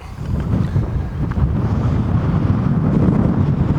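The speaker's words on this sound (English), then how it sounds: "It's getting windy up here." Strong mountain wind buffets and roars against the microphone in a constant low rumble, loud and close, with no voices.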